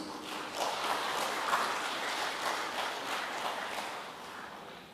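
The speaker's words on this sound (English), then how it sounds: "Please give a warm applause." Conference audience clapping steadily for about five seconds, a dense, even wash of applause that tapers slightly at the end, with no talk over it.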